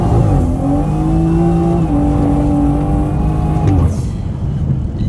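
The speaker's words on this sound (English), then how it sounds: "That's why my tire is spinning so much." Car with stability control off spinning a tire in snow, a loud steady engine drone with a wavering whine that rises and falls and then cuts off abruptly near the end.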